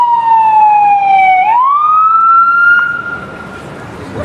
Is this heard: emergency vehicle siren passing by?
yes